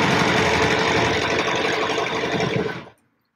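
A sewing machine runs steadily while quilting a straight line along a ruler foot on a square spiral quilt, a dense continuous whir lasting about three seconds before cutting off abruptly into silence.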